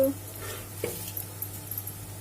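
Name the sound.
onions frying in a pan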